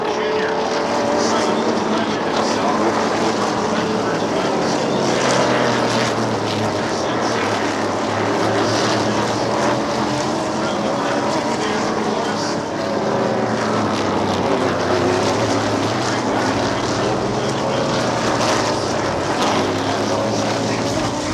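Vintage race cars at SVRA Sebring heading into turn one, their engines a continuous, loud droning roar that swells and fades, with voices talking over it throughout.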